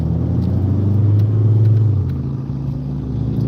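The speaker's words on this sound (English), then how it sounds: "She's probably recording some of these cars going by" Cars pass on a mountain road through the Smoky Mountains between Pigeon Forge and Gatlinburg, a loud, steady low engine and tire rumble that swells and then eases slightly as traffic goes by.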